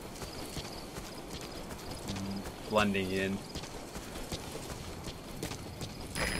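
Steady clip-clop of horse hooves at a walking pace in Metal Gear Solid V: The Phantom Pain, with a brief horse whinny partway through; a voice speaks briefly over it.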